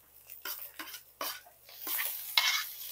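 Mushrooms are stirred in a cooking pot for a tofu and vegetable soup: several separate scraping strokes, then a rising soft sizzle, close by with no talk.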